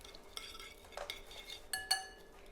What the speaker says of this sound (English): I'm just going to give this a little stir.